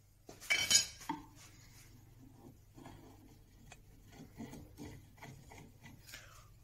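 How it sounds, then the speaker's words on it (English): Woodworking clamps being loosened and pulled off a repaired wooden IKEA GJÖRA bed post: a sharp scraping clatter near the start, then quieter scattered knocks, rubs and small clinks in a hushed workshop. "let's get these cramps off"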